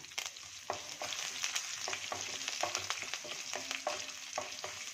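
Curry leaves hit hot oil already holding chopped green chili for upma, giving a lively crackling sizzle with sharp, irregular pops over a continuous frying hiss, close and fairly loud.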